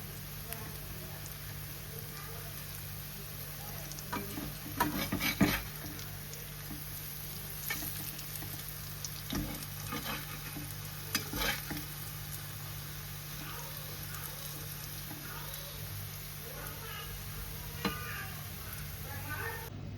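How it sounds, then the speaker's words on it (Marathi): Aluvadi frying crisp in hot oil gives a low, steady sizzle over a constant hum, with occasional clicks and bumps from handling the pan. "आलूवडी मस्त कडक फ्राय करायची"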